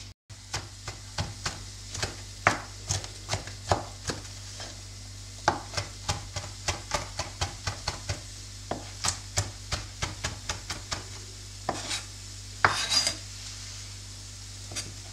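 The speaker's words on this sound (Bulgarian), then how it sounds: "Розмарин и чесън, които трябва да се нарежат наситно." A knife finely chops rosemary and garlic on a board, prepared as herbs for grilled lamb ribs and vegetables. Crisp strikes land in a fast, steady rhythm throughout, close and fairly loud, with no talk.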